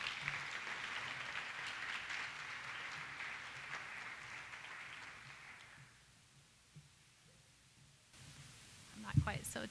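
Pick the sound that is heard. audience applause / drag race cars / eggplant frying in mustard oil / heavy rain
audience applause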